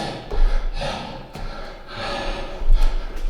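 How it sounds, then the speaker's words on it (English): Heavy, ragged breathing from a person during a home workout, with close, loud gasping inhales and puffing exhales repeating in an uneven rhythm, no talk. "Sorry for the heavy breathing."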